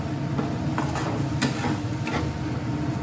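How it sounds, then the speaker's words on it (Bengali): Chicken balls in sauce stir-fried over high heat for a few seconds, a steady close sizzle with scraping spatula strokes and soft clinks of a pan, no voices. "সস সব দিয়ে একটু আমি কয়েক সেকেন্ড একটু হাই স্টিমে ভাজবো।"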